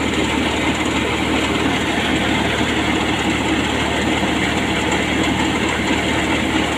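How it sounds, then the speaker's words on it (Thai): A combine harvester's non-turbo Nissan engine runs steadily with a dense, unbroken rumble and mechanical roar, loud and close, with no pauses. "เครื่องยนต์ไม่มีเทอร์โบนะครับ เป็นเครื่องยนต์นิสสันนะครับ"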